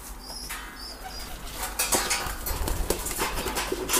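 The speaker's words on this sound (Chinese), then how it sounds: "我们来看一下鸽舍里面的小鸽子啊" Young pigeons inside a pigeon loft, with soft cooing and brief wing flutters over a steady background hum and a few clattering knocks; no one speaks.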